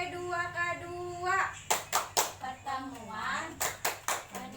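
A group of mothers in a family-skills class chants and then claps together in a rhythmic group clap, with several sharp, synchronized claps in a short patterned sequence between sung-out words.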